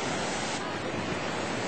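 Tsunami waves from 2004 rush toward the shore at Krabi, Thailand, as a dense, loud, continuous roar of surf mixed with heavy wind buffeting the microphone.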